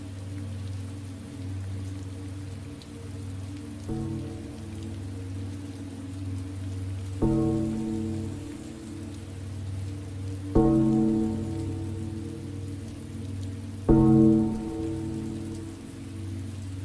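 Steady rain pours down on a surface, a continuous wash of drops with no voices, the downpour swelling briefly louder a few times.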